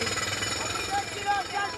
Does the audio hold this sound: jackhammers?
yes